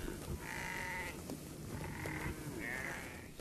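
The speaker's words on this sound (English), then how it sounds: "such as the Red Maasai sheep" Red Maasai sheep bleat three times in quick succession, each call drawn out and fairly close, over a steady outdoor background.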